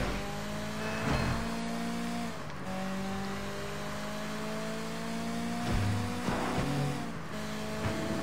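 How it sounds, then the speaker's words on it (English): A sports coupe races along in the Sleeping Dogs video game, its engine holding a steady droning pitch with a couple of brief rising revs and shifts, loud and continuous without speech. "Damn, this car goes really fast."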